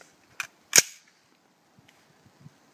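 An AR-15 rifle fitted with an EOTech sight fires two sharp shots in quick succession on an outdoor range, followed by faint scattered ticks and quiet.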